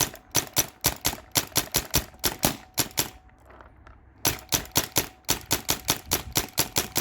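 A Spyder Rodeo paintball marker dumps a full magazine in rapid bursts of sharp, close pops, with a short pause midway before the rapid firing resumes at full pace.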